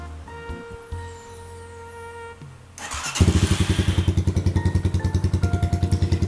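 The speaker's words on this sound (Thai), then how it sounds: "มาฟังเสียงท่อกันเลยดีกว่า" A GPX Legend 200 motorcycle (2017) with custom exhaust starts with a clatter, then settles into a loud, steady, pulsing exhaust idle, close by, with no talking.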